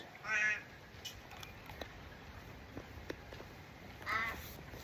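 Crows call twice outdoors, with a harsh caw at the start and another near the end. Between the calls there is a quiet stretch with faint ticks and rustles.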